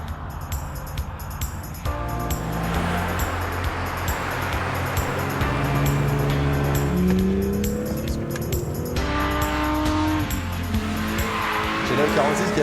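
BMW 3 Series car accelerating hard in the company of other BMWs, engine note rising through gears and winding up loudly for several seconds with a steady roar throughout.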